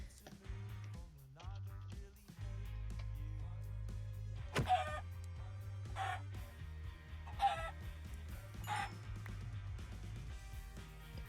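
Video-game chickens cluck in short bursts over a low droning music bed, several quiet clucks spaced across the stretch in a Minecraft-style survival world.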